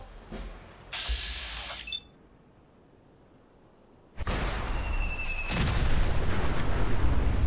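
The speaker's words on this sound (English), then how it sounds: "Sometimes it takes 1 mini nuke, sometimes it takes 2, depending how spread apart they are." A mini nuke detonates in Fallout 4 after a brief lull, setting off a sudden, loud, close blast followed by a sustained heavy roaring rumble, with smaller bursts and clanks beforehand.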